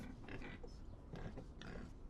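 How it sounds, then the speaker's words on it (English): Pigs grunting and oinking as a winged-boar effect in a tabletop fantasy game, several short snorts in a busy, continuous mix with no speech over them. "Oh. There are pigs with wings."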